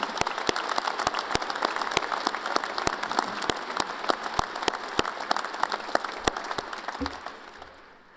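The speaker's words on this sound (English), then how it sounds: "Let's please give them a round of applause." Applause from a commencement audience at Weber State University's spring 2018 ceremony, honoring retiring faculty and staff: a dense field of many hands clapping, with sharp individual claps standing out, holding steady before thinning and fading near the end.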